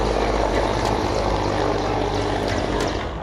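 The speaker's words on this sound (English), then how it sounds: "The chopper can be seen and heard roaring overhead" A military helicopter carrying defence personnel roars low overhead in the Nilgiris mountains, a loud steady rotor and engine drone with faint rhythmic blade slaps, heard alone.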